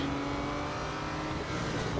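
An Aston Martin Vantage GT3 with a 4.7-litre V8 of about 425 horsepower and a six-speed gearbox revs in the Real Racing 3 racing game, a loud, steady engine drone filling the whole moment with no voices.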